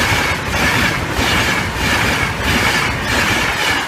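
A West Riding Limited train rolls over a level crossing on Church Lane in Nottinghamshire, a loud, steady rumble of wheels and cars close by with a rhythmic clatter running throughout.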